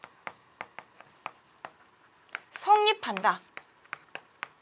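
Chalk or marker tapping and scratching on a classroom board while writing a math equation, a series of short sharp strokes with a teacher's voice speaking briefly in the middle.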